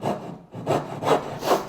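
A hand saw cuts dovetail pins in wood for a workbench drawer, four close, rhythmic rasping strokes, each swelling and fading.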